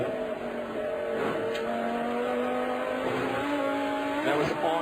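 An on-board race car engine at the Daytona 24 Hours screams through the bus stop chicane, loud and close, the pitch shifting as the car brakes and accelerates, with a commentator's voice faintly under it.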